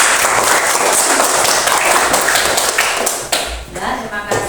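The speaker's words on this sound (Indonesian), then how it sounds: "Tepuk tangan untuk kelompok terakhir ya." A classroom of students claps loudly for the last presenting group, a dense burst of close applause with voices mixed in, tapering off near the end.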